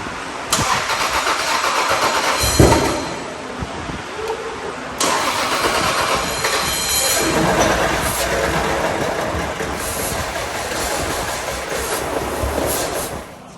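A Toyota MK4 Supra with a newly swapped engine cranks repeatedly without catching, the starter whirring in several loud bursts with short pauses between them.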